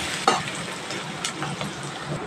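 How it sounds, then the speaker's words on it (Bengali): Onion and green chili frying in a pan over a medium gas flame, a steady close sizzle with a few sharper stirring scrapes, no voices. "আমি পেঁয়াজ আর কাঁচা লঙ্কা দিয়ে গ্যাসের ফ্লেমটা মিডিয়ামে রেখে একটু ফ্রাই করে নেব।"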